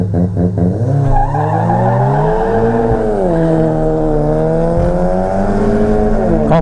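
A Volkswagen GTI spins its tires at a drag race launch, a loud sustained squeal over a roaring, revving engine that holds steady for several seconds, close by.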